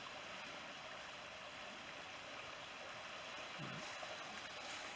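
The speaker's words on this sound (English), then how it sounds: "there's the little stream with its not really white water, just a little ripple in the water." A small stream with gentle ripples rather than white water, its soft, steady rushing wash continuing evenly throughout and fairly faint, with no voices.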